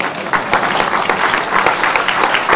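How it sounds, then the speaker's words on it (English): An audience at a crossword puzzle tournament evening session bursts into loud, sustained applause, dense clapping from a large crowd filling the hall throughout. "Applause."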